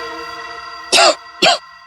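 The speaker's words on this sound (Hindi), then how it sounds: "ये कोई आम खांसी नहीं, टीबी वाली खांसी है" Two sharp, loud coughs from tuberculosis, one after the other, cut through a steady humming tonal background in a TV crime drama.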